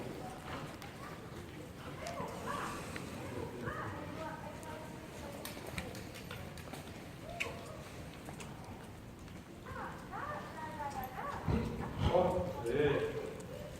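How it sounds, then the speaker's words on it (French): Horses trot during a riding lesson with a soft rhythmic clip-clop of hooves. An instructor speaks over the hoofbeats through most of it. "je vous demande de trotter, je vous demande pas de galoper, Yvette"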